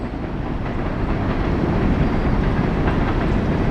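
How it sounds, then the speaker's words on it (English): A train rolls past right next door, a loud, steady rumble with rhythmic rail clatter filling the whole clip, heard alone with no voices. "And a train next door."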